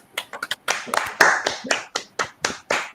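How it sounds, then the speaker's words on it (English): A small audience at a writing workshop claps briefly, a sparse, close handful of individual claps in an uneven rhythm with distinct separate hits rather than a dense wash. "Give him a round of applause."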